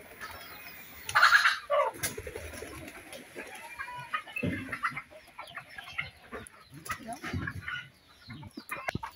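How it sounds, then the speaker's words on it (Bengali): Chickens jump down from a perch nearby, starting with a loud squawking burst, then scattered clucks and rustling that continue intermittently. "দেখেন এক একটা মুরগি কীভাবে ফাল দিয়ে নামতেছে।"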